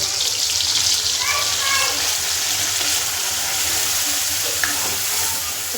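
Masala tipped into hot oil for a cauliflower and pea mixed vegetable dish, giving a steady, close broadband sizzle that holds throughout, with faint scattered clinks and a brief tap near the end.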